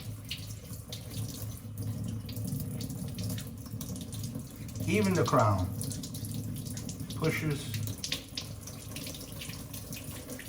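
Tap water runs steadily into a sink while a gold Rolex is rinsed, a constant low wash heard under intermittent talking.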